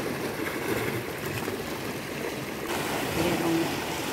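Wake from a passing boat slaps against the water, a steady rushing splash up close that swells near the end, with faint wind noise around it.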